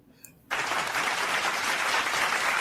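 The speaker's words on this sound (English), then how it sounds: "How you start the hand clap before I even get my intro?" After a brief quiet moment, sustained audience applause bursts in abruptly at the start of a live wrestling recap show and continues steadily, a dense wash of many hands clapping.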